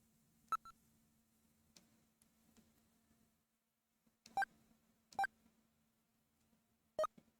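Electronic telephone dialing beeps from the video game Snatcher, a few short sharp tones spaced out, one alone and then three more in a quick sequence, over near silence with a faint hum.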